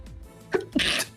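A single sharp human sneeze during a tabletop role-playing game session, a quick inhale then a loud close burst, with no talk over it.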